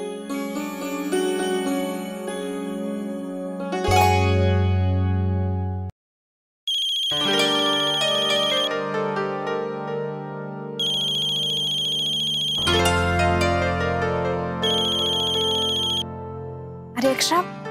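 A phone ringtone plays a loud melodic electronic tune in repeated phrases, cutting out briefly partway and then resuming with bright tinkling notes, heard alone without talk.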